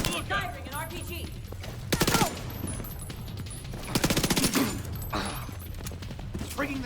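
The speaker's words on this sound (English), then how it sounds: "Firing an RPG." Enemy fire in The Division 2 at the True Sons stronghold in the Capitol Building, with an RPG launch amid bursts of automatic gunfire. Two loud volleys stand out against steady battle noise, and a voice speaks over part of it.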